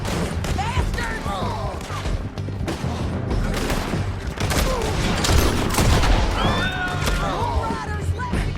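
Gunfire crackles through a mounted shootout in Red Dead Redemption 2, with repeated close shots and volleys over hoofbeats and shouting voices, loud and dense all the way through.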